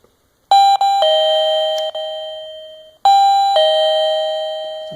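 A Digoo smart doorbell chime plays a clear, loud two-tone ding-dong, then repeats the same ringing pattern after a short silence.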